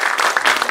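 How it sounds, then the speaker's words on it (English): Audience applause welcoming a speaker at a talk, a short burst of dense, steady clapping from a crowd, close and fairly loud throughout. "let's give him a round of applause to welcome him here"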